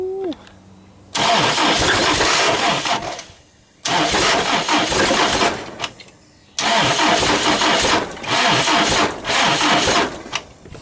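A Toyota Hilux drift build engine is cranked over and over, several loud cranking bursts separated by short pauses, each a harsh churning roar close to the vehicle with no talking.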